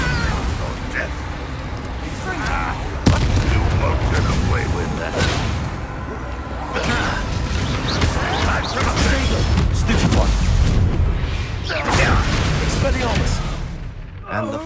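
Confringo blasting spell explosions in the video game Hogwarts Legacy, a series of booming, bursting impacts spread through a noisy magical fight, with a voice talking over the action at times.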